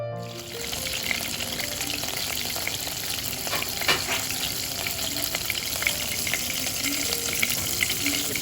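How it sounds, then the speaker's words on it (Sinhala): Bread squares fry in butter in a pan, giving a steady close sizzle that runs unbroken throughout with small crackles and light scraping. "ඒ ටික අරගෙන වාජනේට බටර් ටිකක් දාලා පාන් කොටුව වාජනෙන් තියන්න ඕන"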